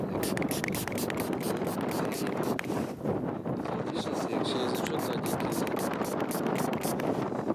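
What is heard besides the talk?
wind blowing on microphone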